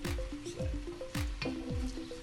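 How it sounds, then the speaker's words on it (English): Mince browning in a hot wok as it is broken up and stirred, with a sizzle under repeated scraping and clanking of a utensil against the pan, close and busy. "Start browning them off as well."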